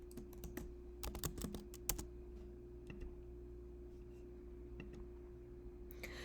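Quiet typing on a computer keyboard for data entry into a study form, with clusters of quick key clicks in the first two seconds, then sparse taps and a brief burst at the end, heard close with no speech.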